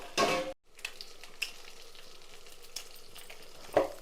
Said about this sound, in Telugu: కరివేపాకు కొంచెం బాగా వేపుకోవాలి